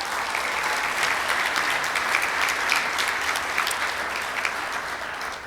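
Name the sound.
audience applause for Linda at Rotary meeting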